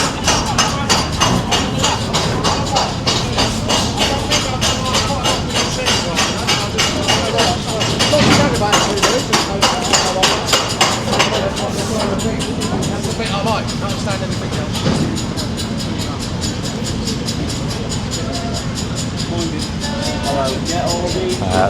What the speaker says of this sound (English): And the ghost train's going round, the famous ghost train.